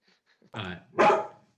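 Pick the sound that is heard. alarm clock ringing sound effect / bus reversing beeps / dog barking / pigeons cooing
dog barking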